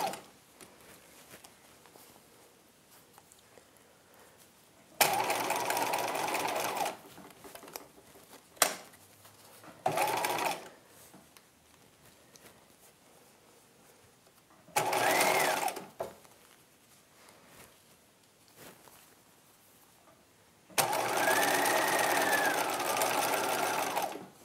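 A sewing machine stitches the princess seams of a '50s halter dress bodice in four loud bursts of steady whirring, with quiet pauses and small handling sounds between them.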